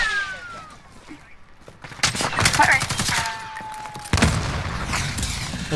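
Gunfire in a first-person shooter video game, rapid automatic bursts and sharp cracks in two loud volleys, with a player talking over the shooting.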